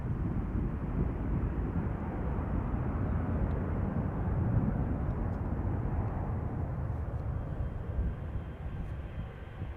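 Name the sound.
airliner on the runway at Amsterdam Schiphol Airport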